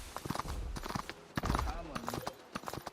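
Video game hoofbeats from a donkey ridden across the icy zone of PUBG Mobile winter mode, a quick irregular clip-clop rhythm, moderately loud, under someone talking throughout.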